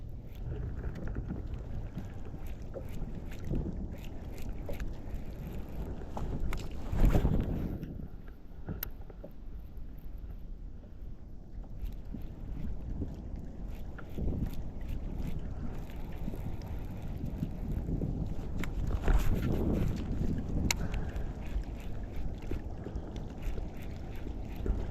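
Blustery wind batters a fishing boat out on open water in cold winter conditions, a loud rumbling roar that surges in strong gusts with muffled buffeting against the microphone, with no clear talk.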